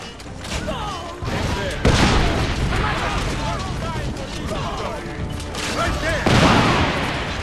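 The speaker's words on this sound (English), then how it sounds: "That's what the cannon does." Loud, booming cannon blasts in Assassin's Creed: Revelations with heavy rumbling impacts, repeated in bursts over continuous battle noise and chaotic effects.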